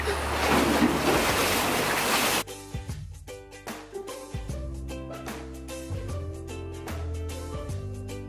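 Ocean surf roars loudly for a few seconds, then gives way to quieter water sloshing and music-like tonal sounds with intermittent knocks, as if aboard a boat at sea.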